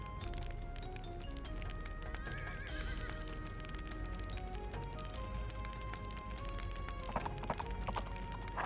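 Horses neigh and whinny over steady clip-clopping hooves in a strategy video game battle with horse archers, set against dense continuous music and game effects throughout.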